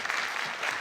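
Theatre audience applause at a Neapolitan talent show, a dense, steady wash of clapping from a large crowd, loud and continuous through the brief moment.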